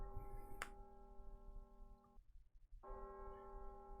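A church bell tolls in the mobile game Fate/Grand Order, one loud ringing strike with a long humming decay that cuts off briefly and then swells again over a low, steady background rumble.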